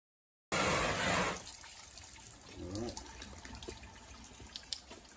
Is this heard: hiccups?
no